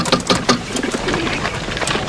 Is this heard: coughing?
no